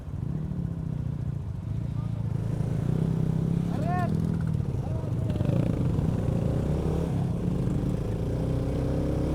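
A motorcycle engine drones under load while climbing the steep final slope toward Boga Lake, a steady mid-pitched hum close by, with a few brief squeaks partway through.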